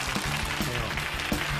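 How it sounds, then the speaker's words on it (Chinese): Studio audience applause welcoming a guest coach onto the stage of a Chinese TV variety show, a short burst of dense clapping over a steady musical bed. "掌声有请孙雪松。"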